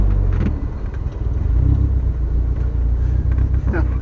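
A rough-running project car with an engine that skips while driving gives a low, uneven rumble with stuttering pulses, loud and close, with voices talking over it.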